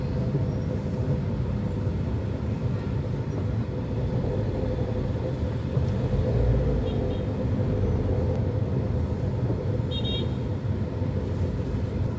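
Continuous road traffic rumble on a congested route, with a couple of short car horn toots cutting through the steady engine drone.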